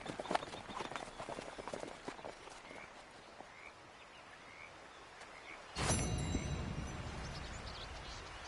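Horse galloping in a video game on PS4, rapid rhythmic hoofbeats at first, then steadier clopping under a sudden surge of louder wind-like rush, with faint bird calls.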